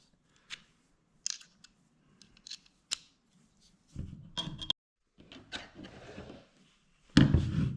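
A screwdriver pries a foil-breaker rod out of a caulk gun, making scattered sharp metal clicks and scrapes, then louder rattling clunks of plastic and metal near the end. Nobody talks.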